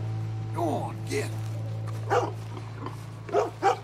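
A dog in Red Dead Redemption 2 gives a few scattered barks and yelps over a constant low engine-like game drone, with a voice speaking briefly between them.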